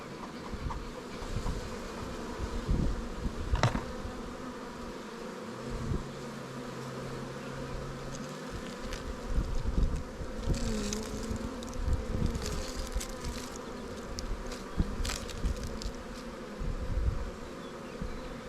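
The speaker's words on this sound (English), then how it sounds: "They're going to town on that sugar brick. Bees are taking it down." Honeybees buzz steadily while chewing on a sugar brick in a hive, a dense continuous drone close by, with a passing bee's louder hum rising briefly midway.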